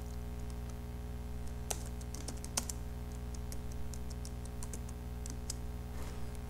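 Steady typing on a computer keyboard while entering notes in accounting software, with irregular close key clicks and a few sharper taps over a constant low electrical hum.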